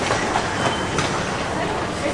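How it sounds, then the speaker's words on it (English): A dense rushing roar of a train arriving at a station platform in Tokyo, close by, with faint rattling of rail cars under a steady wash of noise. "What you just saw right there was like the rush of when the train came."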